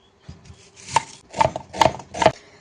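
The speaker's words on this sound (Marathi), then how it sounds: "कांदा बटाटा कोथिंबीर आपल्याला कट करून घ्यायचं आहे" Knife chopping onion, potato and coriander on a board, four or five crisp close chops in an uneven rhythm with no talking.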